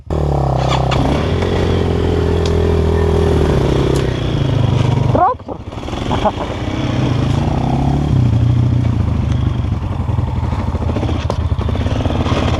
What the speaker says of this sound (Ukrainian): хорнити заводяться з лапки